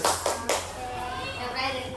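A few sharp claps in a quick rhythm from a fourth-grade class, then a voice talking over ringing classroom noise.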